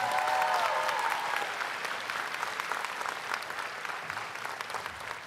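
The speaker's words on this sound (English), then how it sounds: "Give her a huge round of applause" Graduation crowd at a high school commencement ceremony applauding, a dense, even wash of many hands clapping at a steady level, slightly distant and fading a little toward the end, briefly overlapping a faint tonal sound at the start.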